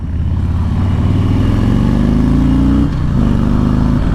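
A Harley-Davidson Sport Glide motorcycle rumbles loudly at highway speed, the deep V-twin engine droning close up with rising pitch as it accelerates, a brief dip around a gear change, then pulling again.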